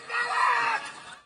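A wounded 27-year-old man screams for medical aid in trial footage, a single strained cry swelling for about a second and then trailing off, close and fairly loud with no talk.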